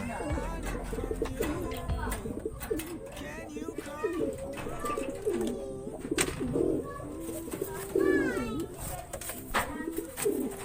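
Pigeons at a racing loft in Natividad, Pangasinan, Philippines coo and burble close by in repeated throaty phrases, with someone talking over them throughout.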